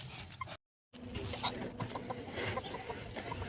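Chickens cluck softly inside a coop, short scattered calls over a low rustling background, broken by a brief gap of silence.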